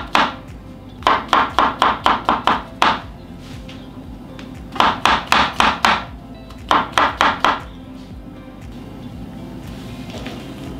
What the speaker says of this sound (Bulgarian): Сега започваме с нарязването на гъбките. Ще ги нарежа на по-дребничко.